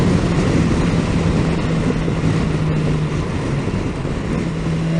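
A 2018 BMW S 1000 XR motorcycle engine drones loud and steady in fifth gear while riding, a constant roar mixed with rushing wind across the whole stretch.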